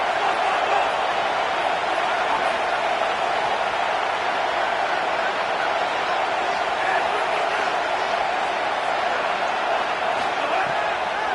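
A home crowd at a UCLA versus Florida American football game roars steadily and loudly as the defense faces third down, a dense, sustained wall of cheering without breaks.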